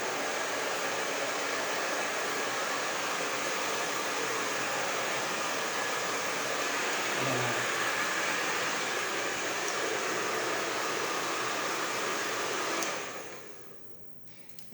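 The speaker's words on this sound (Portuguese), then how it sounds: "Pega uma faixa de cabelo e joga o secador contrário. Bem na raiz." Hair dryer blowing steadily against the roots of a doll's hair, a loud continuous airy whoosh that runs unbroken for most of the clip before cutting off near the end.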